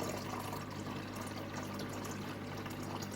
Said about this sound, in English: Pouring decent amount.